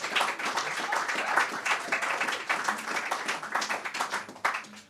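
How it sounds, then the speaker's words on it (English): Live audience applause for a performer at a music show, a dense, steady patter of many hands clapping close by, sustained for several seconds before tailing off at the end. "Big round of applause for Josh."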